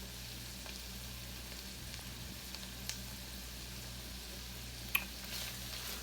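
Bacon frying in a pan on a stovetop, a steady, faint sizzle running throughout with a few small pops and crackles, no voices.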